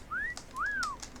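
Character whistle emote in World of Warcraft, heard as a clear two-note whistle, a short rising note followed by a longer rise-and-fall, close and moderately loud with a few faint clicks.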